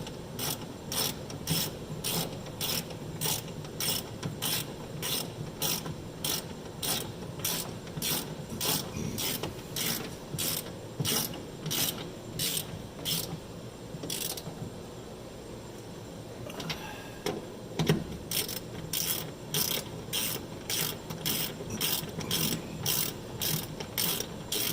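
A ratchet wrench clicks in quick, even bursts while tightening the bearing lock collars on a Massey 300 combine, with a brief pause and a clunk midway before the cranking resumes.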